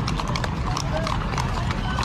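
Steady clip-clop of a horse's hooves in a quick even rhythm, close and fairly loud, heard under ongoing speech.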